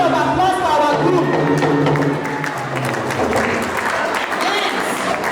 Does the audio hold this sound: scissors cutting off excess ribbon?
no